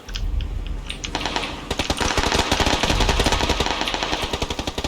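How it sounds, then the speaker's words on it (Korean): Rapid bursts of automatic gunfire from the battle royale game PUBG: Battlegrounds crackle in dense, rattling volleys that grow louder and more continuous after the first second, loud and close with no talk over them. "왼쪽에서 쏜다"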